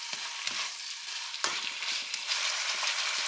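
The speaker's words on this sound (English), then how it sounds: "I'm going to start stirring this up in here. Getting it all mixed up with that beef." Ground beef and onion sizzle in a hot pan while being stirred, a steady close frying hiss with occasional scraping and knocking strokes of the utensil.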